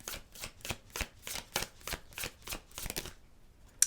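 A deck of tarot cards is shuffled close up, about nine crisp riffling bursts in a steady rhythm, clear and alone with no talking.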